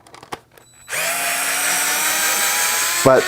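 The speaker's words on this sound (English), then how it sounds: "This electric screwdriver saves me from going crazy." A DeWalt electric screwdriver whirs steadily at close range for a couple of seconds after a few light clicks and taps, then its motor pitch drops sharply as it winds down.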